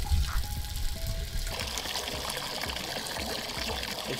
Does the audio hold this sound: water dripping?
yes